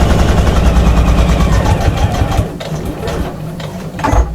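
A sewing machine runs a back stitch along the top seam of a shopper bag with a 1/4 inch seam allowance. It gives a loud, close, rapid mechanical chatter for about two seconds, then slows and quiets into softer intermittent stitching and clicks.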